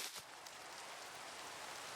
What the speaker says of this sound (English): of course it's raining, so let's clear that up